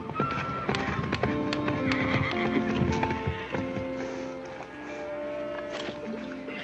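A horse whinnies over steady clip-clopping hooves, the neigh ringing out close while hoofbeats and light rattling continue throughout, with no talking.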